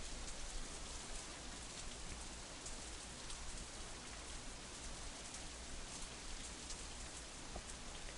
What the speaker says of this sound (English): Instead, the rain seems to increase.